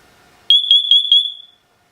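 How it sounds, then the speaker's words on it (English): A Siterwell hardwired interconnected smoke and carbon monoxide detector sounds its alarm tone: four rapid, loud, piercing high-pitched beeps in quick succession, close up, followed by silence. "It'll tell you if it detects fire, or it'll tell you if it detects carbon monoxide, and you have those two different tones"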